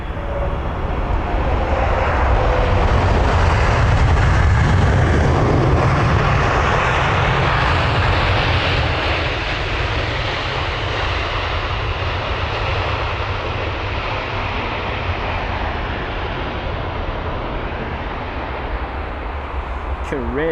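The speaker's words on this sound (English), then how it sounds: "You can really hear how loud the reverse thrusts are on board the 777." Loud, sustained roar of Boeing 777 engines in reverse thrust during landing, heard from inside the cabin. The broad rush swells and then slowly fades as the aircraft slows.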